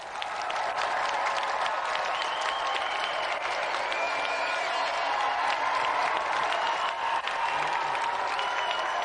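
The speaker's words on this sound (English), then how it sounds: "give a round of applause for our volunteer" A studio audience on a television game show applauds steadily, a dense even wash of clapping that holds at full strength throughout.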